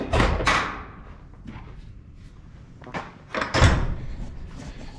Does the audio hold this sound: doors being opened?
yes